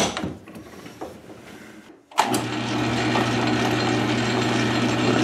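A South Bend 13-inch lathe starts up and runs steadily, its motor hum and gear whir holding constant and fairly loud after a brief quiet gap, with faint clicks and handling noises beforehand.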